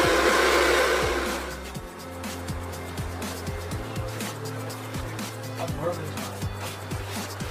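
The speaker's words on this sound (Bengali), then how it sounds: "এক মিনিট, হ্যাঁ, ড্রাই মেশিন দিয়ে একটু চুলটাকে একটু চিকন করে দিচ্ছি।" At a barber shop, a hair dryer blasts loudly for the first second or so while thinning out hair, then drops to a softer background hum as voices carry on over it.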